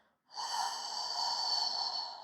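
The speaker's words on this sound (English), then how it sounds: "So full exhale." A single full exhale from a relaxed person lying feet-flat in a lat hang position, pushing all the air out with a steady, breathy rush of about two seconds, close and alone.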